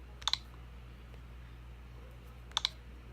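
Two short pairs of light clicks from typing on a Nintendo Switch keyboard, spaced a couple of seconds apart, faint against a quiet hum in a room.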